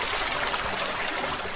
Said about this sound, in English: that's the sound of water flowing along the brook in